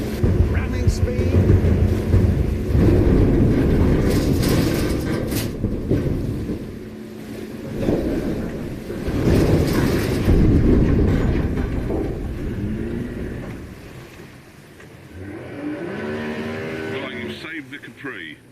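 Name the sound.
racing motorboat engine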